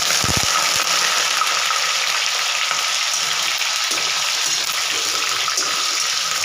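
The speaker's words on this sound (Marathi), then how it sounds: "तर हे आपण व्यवस्थित फ्राय करून घेणार आहोत आता" Potatoes fry in hot oil for a simple yogurt potato curry with no onion, garlic or tomato, with a slotted ladle held above the pan. A loud, continuous sizzle runs throughout, broken by a few brief metallic clinks.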